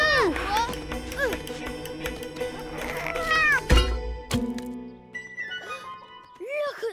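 A cartoon cat meows repeatedly in a Peter Rabbit animated adventure: several rising and falling mews, some drawn out into caterwauls, amid a busy outdoor soundtrack with a thud midway and a voice speaking.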